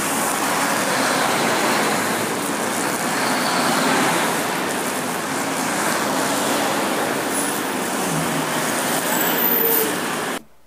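Convoy of about fifty military trucks, pickups and Humvees carrying army personnel and gear rolling into Morelia, a steady, loud wash of engine and road noise that holds for about ten seconds before cutting off abruptly.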